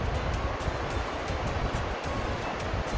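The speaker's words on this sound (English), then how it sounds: "This river separates me from Afghanistan." Broadband rushing water of a river on the Tajikistan–Afghanistan border, a steady, fairly loud wash with no clear breaks, heard alone.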